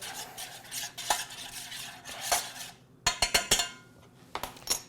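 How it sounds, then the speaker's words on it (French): A spoon stirs balsamic vinegar into a marinade for pork strips, scraping and clinking against the dish in irregular close strokes, with sharper taps toward the end and no voices. "On va brasser un petit peu le tout, juste pour mélanger les 2 éléments."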